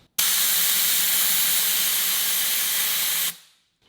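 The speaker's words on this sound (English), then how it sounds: "when you pull the collar back, it's letting all the air pressure out" Air rushes out of an off-road tire through its Schrader valve as a quick air-down tool pulls the core, a steady loud hiss lasting about three seconds before cutting off abruptly.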